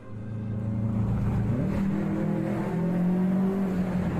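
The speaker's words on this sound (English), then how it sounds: "he decides to really give the car some gas" Car accelerating, a rising engine drone that climbs in pitch as it gains speed, steady and moderately loud with no voices.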